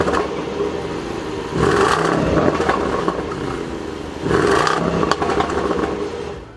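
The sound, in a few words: 2021 Range Rover Sport SVR supercharged 5-liter V8 startup and revs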